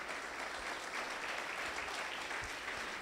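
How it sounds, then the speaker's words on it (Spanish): Steady audience applause at a church sermon, a dense continuous wash of clapping with no talk over it, moderately loud throughout. "Alguien tiene que aplaudir esta palabra en el nombre del Señor"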